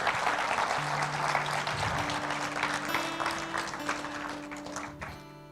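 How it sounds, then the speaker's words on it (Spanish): A church congregation applauds loudly and steadily, a dense wash of many hands clapping over a sustained organ or keyboard chord, then fading off at the close. "Vamos a darle un aplauso al Señor. Pero fuerte, fuerte."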